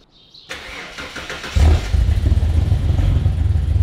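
A turbocharged Ford Fairlane engine is started from cold: a short starter crank, then the engine catches and settles into a loud, lumpy, uneven idle close by.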